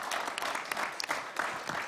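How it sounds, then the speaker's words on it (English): An audience applauds panelists at a policy discussion on Eurasia and the Indo-Pacific, producing steady, dense clapping that fills the whole stretch with no talk over it. "Please join me in applauding the panelists for their interventions."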